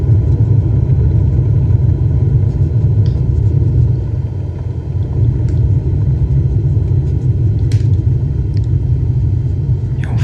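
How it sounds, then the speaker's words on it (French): Airliner in the Flight Simulator video game touching down and braking on a runway, a loud, steady low rumble of engines and rolling wheels that barely changes throughout. "Voilà, là on a fait un bel atterrissage."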